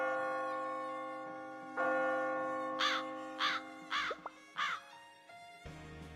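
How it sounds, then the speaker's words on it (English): Crows caw in the video game Blue Archive, four harsh, clear calls in a loose sequence over sustained bell-like musical tones. "a murder of crows too"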